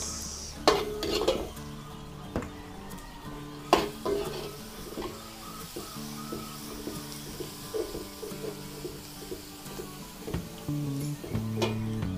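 Chopped onions sizzle and fry in a pan during Filipino home cooking, with a steady frying hiss and repeated clinks and scrapes of a utensil stirring against the pan.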